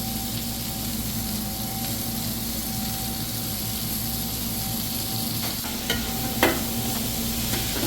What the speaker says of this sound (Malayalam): സവാള ഇട്ട് കൊടുത്ത് അത് നല്ലപോലെ ഇളക്കി കൊടുക്കണം